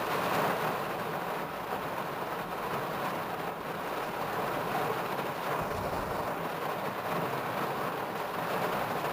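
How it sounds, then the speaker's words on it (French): Steady rain hisses continuously while low rumbles of thunder roll in the distance, with no voices. "Parfois même, la montagne essuie de violentes tempêtes."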